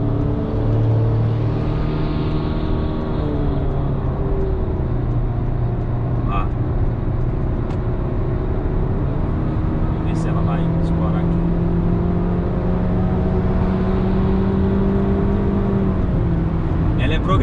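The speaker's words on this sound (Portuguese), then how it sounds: "Então vocês viram o câmbio CVT? Ele dá aquela urrada mais forte no início" A Honda HR-V with a CVT transmission accelerates, heard from inside as a loud, steady engine drone that climbs and holds, with someone talking over it in Portuguese.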